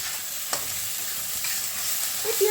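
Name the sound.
onions frying and sizzling in a pan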